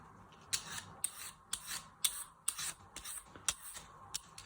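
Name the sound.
peeling a sweet potato with a vegetable peeler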